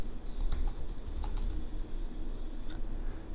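Someone types on a computer keyboard nearby, a quick run of clicking keystrokes bunched at the start and a few scattered taps later, over faint background hum.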